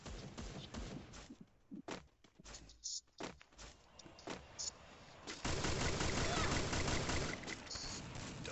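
Bursts of gunfire in a Free Fire battle-royale match, short rapid volleys and scattered single shots before a dense, sustained stretch of firing near the end, with a voice talking in between.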